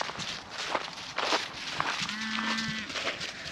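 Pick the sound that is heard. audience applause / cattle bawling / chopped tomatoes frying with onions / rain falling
cattle bawling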